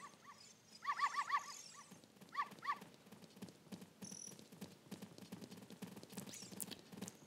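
Dogs in Zelda: Ocarina of Time give short clusters of high, synthetic barks in two bursts, followed by quieter repeated game sound effects and faint chimes.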